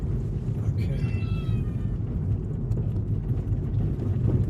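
A spoiled cat meows insistently from inside a vehicle on a long road trip, short tonal cries rising over a steady low engine and road rumble, with people talking nearby.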